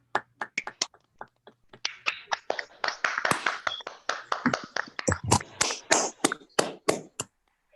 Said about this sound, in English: give all our debaters a wonderful round of applause